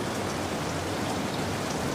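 Steady rain falls in a dense hiss of drops hitting a surface, continuous and even, with no voices.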